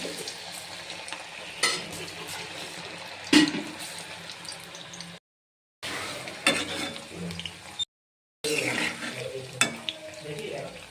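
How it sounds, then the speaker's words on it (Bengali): Small dough pieces (kalla) fry in hot oil, a steady close sizzle with occasional louder stirring clatters and scrapes, broken by two brief silent gaps. "ভালো করে নেড়ে চেড়ে ভেজে নিতে হবে কাল্লাগুলো"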